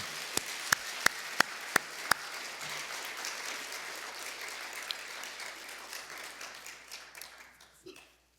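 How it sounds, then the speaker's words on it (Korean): A church congregation at an evening revival service claps in thanks: a few loud, evenly spaced claps ring out first, then a sustained wash of clapping that gradually fades, with voices faintly underneath. "우리 감사의 박수 한번 합니다."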